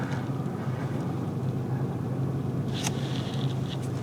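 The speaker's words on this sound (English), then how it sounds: "I am starting the car." A Dacia Duster Hybrid-G 150 4x4 engine runs close by, giving a steady low rumble at an even level throughout, with a brief higher whine near the end and no voices.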